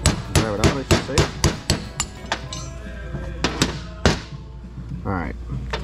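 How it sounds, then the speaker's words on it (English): A hammer drives a chisel against a seal in a Mercury Mercruiser raw water pump, giving sharp metallic blows at a quick, even rhythm at first, then a few scattered heavier strikes, loud and close. "I'll just take a chisel, go down through here, and drive it home."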